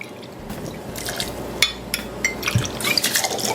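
Vodka poured from a bottle into a cocktail glass, a close liquid splash and trickle with a few small drips, steady and moderately loud for a few seconds.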